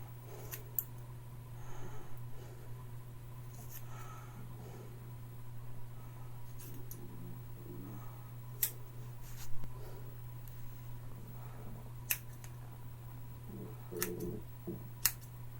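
Scissors snip through a person's own hair in a home haircut, quiet close crisp clicks spaced irregularly over a steady low electrical hum, with light rustling and no talking.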